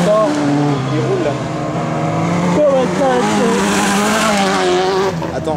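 An autocross race car at the 2012 Saivres event drives around a dirt track with a loud, steady engine roar and changing revs, while a commentator talks over it throughout.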